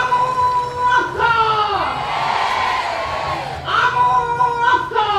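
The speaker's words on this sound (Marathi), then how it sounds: "जोरदार पुन्हा टाळ्या होऊ द्या" A large crowd at an outdoor rally for Adivasi women workers in Maharashtra cheers and shouts loudly and steadily across the whole stretch, with whoops and bursts of shouting that swell and ebb, while a voice calls out over the noise.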